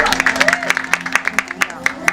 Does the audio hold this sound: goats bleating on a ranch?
no